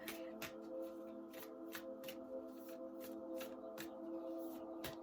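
Cards from a pre-shuffled Moonology oracle deck are handled and drawn, giving a steady run of soft, evenly spaced flicks and snaps over a quiet tonal background, with no talking.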